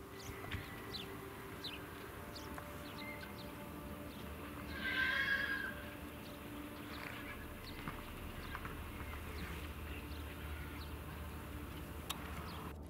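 A horse whinnies once, moderately close, in a feedlot pen among other horses, over a faint steady outdoor background with scattered small sounds.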